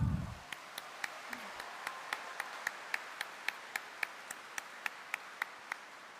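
A crowd of devotees claps in an even rhythm, a regular series of sharp hand claps at a steady pace following a brief voice at the start.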